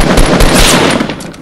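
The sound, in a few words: sniper gunshot in video game Fortnite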